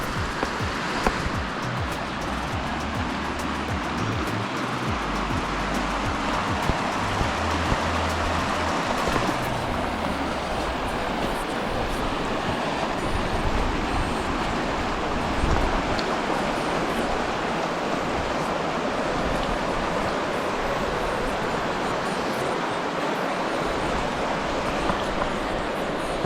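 A river rushes steadily beside a parked van at a campground in Carbondale, a continuous broadband wash of flowing water without pause, close and even throughout.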